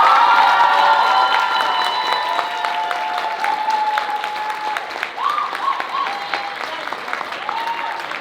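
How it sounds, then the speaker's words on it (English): A school performance night audience gives a round of applause with some cheering, loud at first and slowly easing, while a few voices and whistle-like tones ride over the clapping. "One more round of applause."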